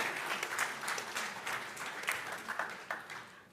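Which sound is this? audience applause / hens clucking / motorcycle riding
audience applause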